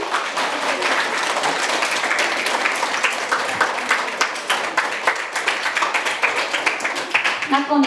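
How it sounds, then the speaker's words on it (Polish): Audience applause for all participants at a district-level school reading contest, dense steady clapping from a crowd filling the whole stretch, fairly loud and continuous, with some voices mixed in. "Brawa jeszcze raz dla wszystkich."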